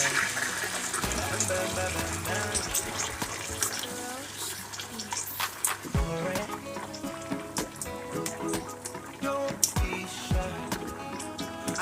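Tomato passata poured into a pot to fry for Nigerian jollof rice, a continuous liquid gushing and splashing with a background sizzle, while someone talks over it.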